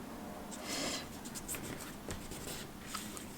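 Paper being creased and folded into an origami rose, soft close rustles and brief scraping strokes over a faint background hiss, quiet and without speech.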